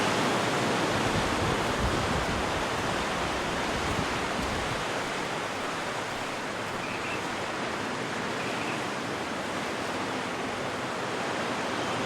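Atlantic ocean waves wash steadily onto Rosses Point beach, a dense, continuous roar of surf close by with no breaks and no voices.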